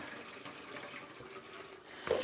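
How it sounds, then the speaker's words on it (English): Tap water running into a sink over freshly dyed fibre, a steady soft rush that swells into a louder splash near the end, close by with no talking. "I'm just going to let the water run over that side."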